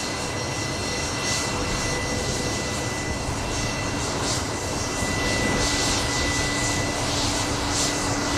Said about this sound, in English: I just heard like a change in the tone there from the engines on the Fokker